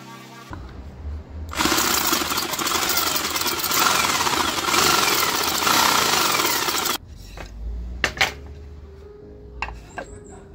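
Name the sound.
sanding wood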